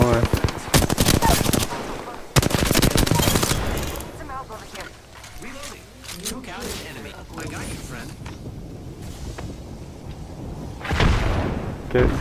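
Rapid bursts of automatic gunfire from Apex Legends, loud and close at the start and again near the end, with a quieter stretch of in-game sounds between; players talk throughout.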